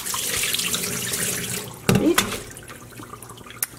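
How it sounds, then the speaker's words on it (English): Tap water runs steadily into a dyepot at close range, then splashes and clatters briefly in the middle before quieting to a soft trickle. "What I'm gonna do first is gently fill this up with some water"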